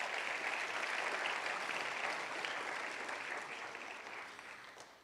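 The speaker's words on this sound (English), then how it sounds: "please clap it up for those guys" Audience applause at a high school football signing day, a dense wash of clapping that holds steady and then slowly fades toward the end, heard at a moderate distance with no talk.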